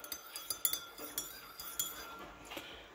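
A spoon stirs tea in a cup, giving a quick irregular run of light metallic clinks against ceramic, close and fairly quiet, with no talking.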